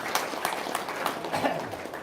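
An audience at a spiritual advice event claps briefly on request, scattered uneven hand claps with small crowd noise over a couple of seconds.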